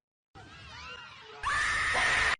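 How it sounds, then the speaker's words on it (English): A man screams in a short played-back clip, first a wavering cry and then a loud, sustained shriek that cuts off abruptly after about a second. "Número 5. Man Scream."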